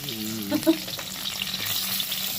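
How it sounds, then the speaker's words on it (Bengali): Pieces of pointed gourd sizzle and crackle steadily in hot oil beside potatoes, with a brief clink of stirring near the start. "দেখো পটলটাও পুরো আলুর মতন করে একদম সুন্দর করে ভেজে নিয়েছি"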